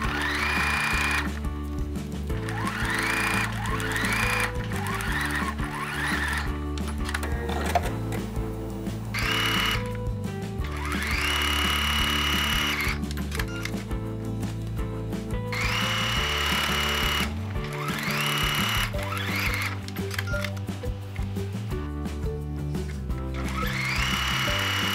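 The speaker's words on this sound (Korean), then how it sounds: "그리고 이 뒷면까지 같이 해서 다 시접 1cm로 봉제를 해줘서 사각형의 틀을 만들어 줄게요" Close sewing machine stitching fabric basket side panels together with a 1 cm seam allowance, its motor whirring loudly in repeated bursts with short pauses in between.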